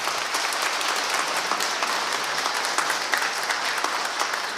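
Sustained applause from a congregation welcoming a departing Catholic priest at his farewell ceremony, dense steady clapping filling the whole stretch at close range with no break.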